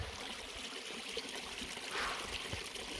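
A small freshwater spring trickles along a wilderness trail, a soft, steady dribbling murmur with light splashes, faint and close, with no talk.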